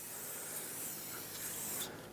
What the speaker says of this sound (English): So use brake parts cleaner, spray it down,